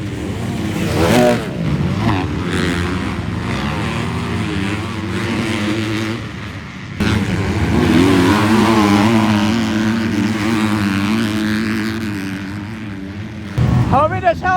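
A motocross bike's engine screams wide open during a race at Glen Helen, a loud sustained high-revving drone with other bikes nearby, under excited commentary.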